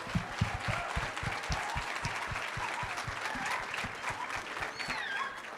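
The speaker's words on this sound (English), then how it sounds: "Please, a round of applause for that." An audience claps steadily at a graduation ceremony, a dense patter of many hands with a few louder nearby claps, continuing without a break and with no voices over it.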